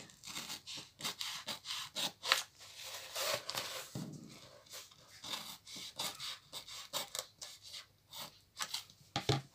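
Scissors snip repeatedly through fabric for a small pouch, a quick run of close, rasping cuts in an irregular rhythm, faint and up close with no talking.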